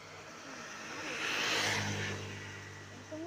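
A vehicle passing along a village road, its engine noise swelling as it draws near and fading as it moves away, heard at a moderate distance over quiet outdoor background.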